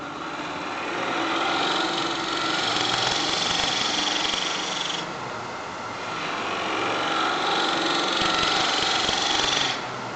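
Steady high-pitched whine of a wood lathe spinning while a ball gouge with a longer grind cuts the turning wood, a continuous close hum with a slight dip in the middle and no talk.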